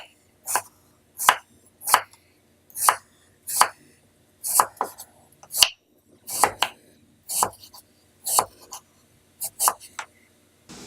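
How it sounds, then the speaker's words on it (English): Knife thinly slicing vegetables for bo bia on a cutting board, about fourteen crisp, sharp chops in an uneven steady rhythm, close and fairly loud, with no talking. "thinly slice these from top to bottom"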